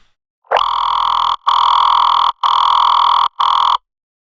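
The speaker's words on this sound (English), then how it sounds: "It's basically just a sine wave with a little bit of white noise and distortion" A sustained synth tone made from a sine wave with white noise and distortion, bright and slightly buzzy with a noisy edge, plays in four long held notes separated by short gaps.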